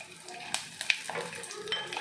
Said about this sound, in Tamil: பூண்டு எண்ணெயில் நல்லா வெந்துருச்சு.